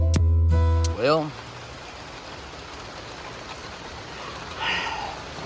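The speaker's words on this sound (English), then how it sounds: "I know we need the rain," Steady rain falls outside over a weedy vegetable garden plot, a continuous soft hiss with a brief louder rush near the end, after a short burst of voice at the start.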